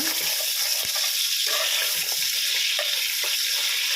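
Mutton fat sautéing in a pan for biryani, a loud, dense, continuous sizzle with occasional small stirring scrapes.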